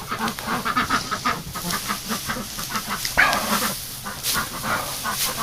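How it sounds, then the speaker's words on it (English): Ducks arrive in the snow and quack repeatedly in a rough, choppy chorus with honk-like calls, close and moderately loud, with scattered rustling and no talk. "The ducks are coming in."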